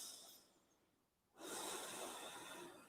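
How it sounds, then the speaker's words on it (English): A person stretching takes a slow, deep breath: a soft airy exhale that fades into a brief quiet pause, then a strong, close inhale that continues to the end. "Let's just take a couple of breaths."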